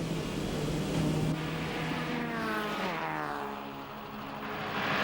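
Saloon race cars from the 1994 National Saloon Car Championship, including a 2.3-litre BMW, roar past at night, their engine notes rising and falling in a sweeping pass-by; loud, continuous, with no speech.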